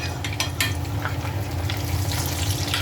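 Breaded pork chops sizzle loudly in a frying pan as tongs flip them, a dense crackling hiss with a few sharper spatters close up.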